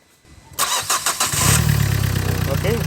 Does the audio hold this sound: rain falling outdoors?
no